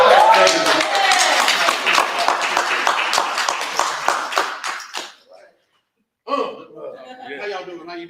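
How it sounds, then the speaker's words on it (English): Enthusiastic crowd applause with scattered cheers, loud and sustained for several seconds, then a brief silence before a voice starts talking. "So y'all go ahead and give him a round of applause."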